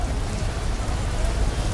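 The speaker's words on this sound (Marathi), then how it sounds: "आणि आल्याबरोबर इथं पाऊस चालू झाला आहे बाबा." Heavy rain pouring down at a bus stand, a dense continuous hiss and patter close by, loud and unbroken for the whole short stretch.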